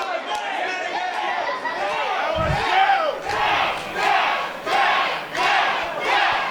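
A wrestling crowd roars behind champion Chris Bay. Loud massed shouting and cheering rise and fall in waves, with voices chanting together.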